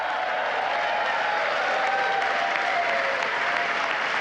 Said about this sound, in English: a couple Democrats are cheering for that